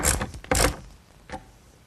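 A carriage bolt being fastened through the center of a wooden garden cart's cross brace, with two quick bursts of ratcheting clicks followed by a fainter short click, close and clear.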